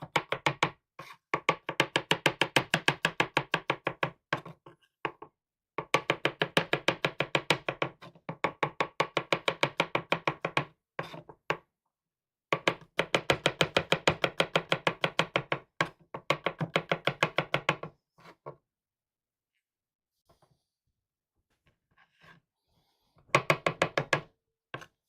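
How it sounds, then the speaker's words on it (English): A knife roughly chopping food on a board in a home kitchen, with fast steady runs of crisp, evenly spaced knocks in several long bursts separated by short pauses, close and clear with no talking. "I'm doing a bit of a rough chop for about half of this."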